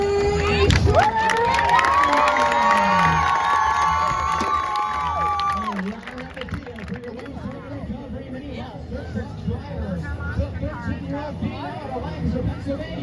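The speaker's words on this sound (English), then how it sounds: "Put your hands together for Logan and Vinny Schroeder" Large crowd cheering, shouting and applauding at a Renegade monster truck tour show at the Washington County Fair in Marietta, Ohio, a loud sustained roar with children's shouts, a whistle at the start and a PA announcer voice over it.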